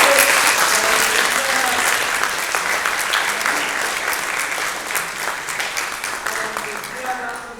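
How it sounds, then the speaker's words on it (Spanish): An audience at a spoken-word event in Querétaro applauds loudly and steadily with dense clapping that holds for several seconds and slowly eases, while voices carry faintly underneath. "brindemos un fuerte aplauso muy merecido por este trabajo"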